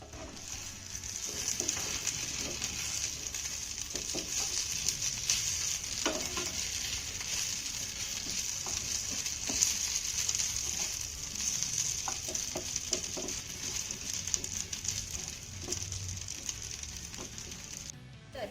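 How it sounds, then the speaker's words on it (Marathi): Steady, close sizzling and crackling of moong dal pieces shallow-frying in a little oil in a pan over low flame, continuous throughout with no talking. "लो फ्लेमवरती आपल्याला या वड्या तीन ते चार मिनिटं छान अशा परतून"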